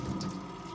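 Tap water runs in a sink as hands are wetted before washing an oil paint brush, a brief, faint, steady splashing flow.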